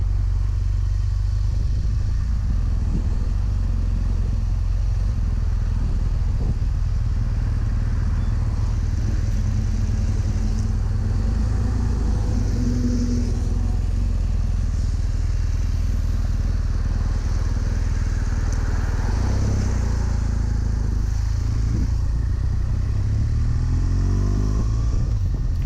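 BMW GS motorcycle riding along a road with a little snow on the ground, a steady close engine drone with wind rush and slight rises in pitch throughout, no talking.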